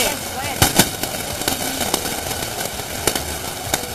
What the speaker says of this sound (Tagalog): Sobrang lakas ng mga paputok na naranasan natin dito sa...